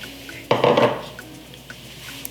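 A lid set onto a pot of garlic-steamed sea bream with olive oil and water, a single close clattering knock of metal, then quiet kitchen background.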